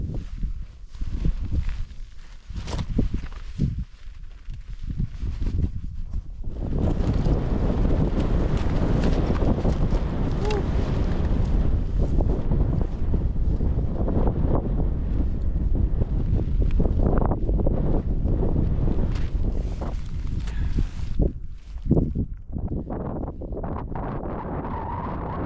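Strong wind buffets a mountain campsite in the Superstition Mountains, a loud, roaring rumble that gusts and swells for over twenty seconds, with brief lulls and rustling handling noises at the start and end.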